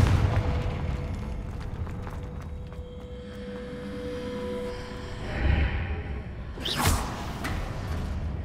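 A Confringo blast spell in Hogwarts Legacy erupts with a loud fiery whoosh and explosive burst near the end, after a quieter stretch of rumbling ambience and a steady tone.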